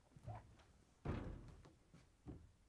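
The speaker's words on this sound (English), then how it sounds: "To get to the part, we need to open the fresh food door." A Frigidaire refrigerator's fresh food door is pulled open with a soft thunk and a muffled knock of the seal releasing, then a few quieter bumps, all faint and close.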